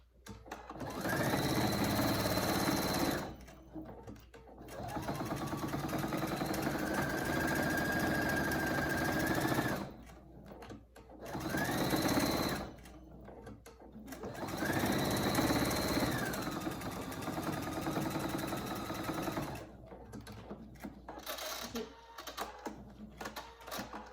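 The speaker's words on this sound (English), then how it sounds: "now you're going to sew across each one, all across the bottom, from one end to the other end" Domestic sewing machine stitching straight seams across the bottom of a fabric microbat hanging pouch, running in several loud, steady buzzing bursts of a few seconds each with short pauses between, no talking.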